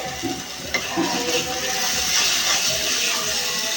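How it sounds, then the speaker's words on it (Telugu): Onions with salt, chili powder and masala fry in oil for a fish curry, producing a dense, continuous close sizzle with occasional stirring scrapes and no voices. "సాల్ట్ అదే కారం మసాలా ఇవన్నీ వేసి ఫ్రై చేసుకోవాలి"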